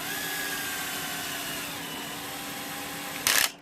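A power drill with a hex bit drives screws into Delrin injection-molded tracks for a 1/6th scale Dragon Sherman tank, giving a steady close whir that ends in a brief louder burst before stopping.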